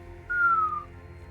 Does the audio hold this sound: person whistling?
yes